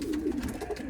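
An award-winning racing pigeon coos softly in a low, steady warble, close by and alone for about a second.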